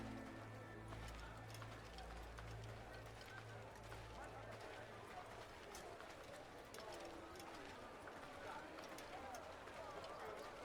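Horse hooves galloping in the Assassin's Creed video game, set in Jerusalem, make a steady rapid clatter that runs through the clip beneath a low droning hum.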